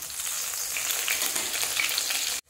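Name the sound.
sweet corn chops frying in a pan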